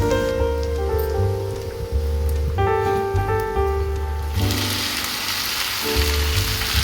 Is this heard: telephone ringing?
no